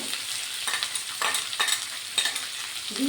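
Chopped carrots and beans frying in hot oil for vegetarian fried rice, a steady close sizzle broken by several scraping stirs of a spatula in the pan, no voices.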